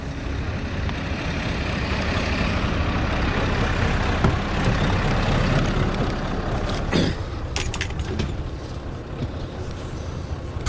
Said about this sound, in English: I'll put the old blower on.